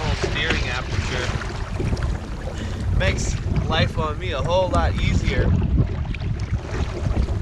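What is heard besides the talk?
wind on choppy water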